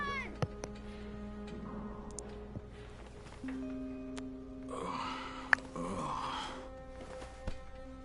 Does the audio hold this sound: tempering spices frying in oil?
no